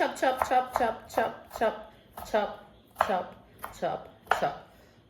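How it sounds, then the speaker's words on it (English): A knife chops vegetables on a board for homemade guacamole in a rapid series of sharp, close taps. A voice talks in bursts between and over the cuts. "Anyway, chop."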